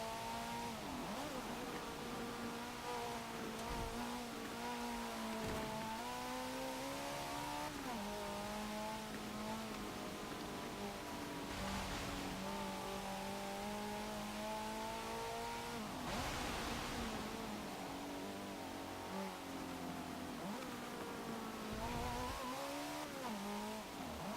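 A 2013 Mercedes-Benz A 45 AMG in Forza Motorsport 7 climbs hard through the gears, its engine note rising and dropping at each shift, loud and continuous with no voices.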